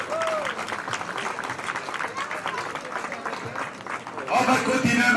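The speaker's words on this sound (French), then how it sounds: "Si vous l'applaudissez plus fort." Spectators at a podium ceremony of the Grand Prix cycliste de Marseille La Marseillaise applaud a cyclist with steady, sustained clapping, while an announcer's amplified voice carries over the crowd.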